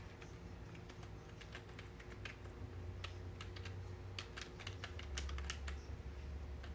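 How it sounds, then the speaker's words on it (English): Computer keyboard typing in quick irregular bursts of crisp key clicks, fairly quiet and close, over a constant low hum with no talking. "we type in our compiler name"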